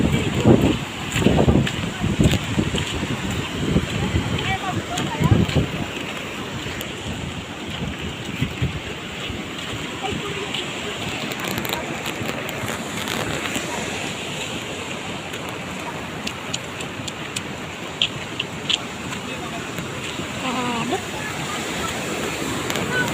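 A flooded river roars in a constant, dense rush of water, with rolling rocks in the current and heavier churning early on, close and loud throughout.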